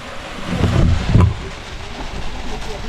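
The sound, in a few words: Cuchimachay waterfall flowing water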